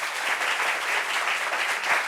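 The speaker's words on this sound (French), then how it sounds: "Applaudissements pour Poupette Star, s'il vous plaît." Audience applause welcoming a guest on a French talk show, a thick, continuous patter of clapping from a sizable crowd, steady and moderately loud across the short span.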